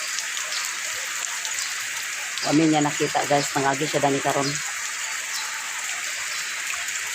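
Steady rain falls on a shelter in town center of Bulacan, a constant hiss throughout while a person speaks briefly over it.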